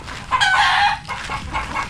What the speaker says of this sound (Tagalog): tingnan mo itong isang manok na to